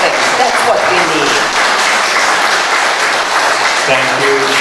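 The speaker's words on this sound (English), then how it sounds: "please hold your applause until the end" An audience at a public political debate applauds loudly and steadily, a dense wash of close clapping that fills the whole moment without letup.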